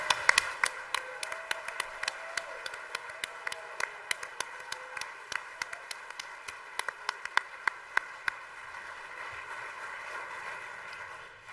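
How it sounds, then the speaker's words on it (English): Sparse, distinct claps from a few people ring out during a keynote event, with separate sharp hand strikes scattered over a quiet room tone rather than a full ovation. "please stand so that we can recognize them with a round of applause"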